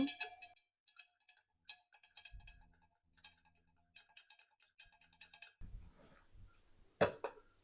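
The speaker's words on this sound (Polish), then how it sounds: "Dokładnie mieszam." A spoon stirring lemon and warm water in a glass, giving quiet, irregular clinks and taps, followed by a louder clank near the end.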